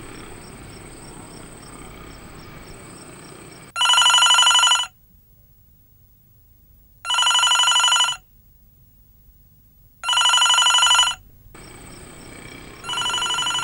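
A telephone rings unanswered in a house: four long electronic trills, each about a second, separated by silent gaps, with a steady cricket-like chirping background audible between the first and last rings.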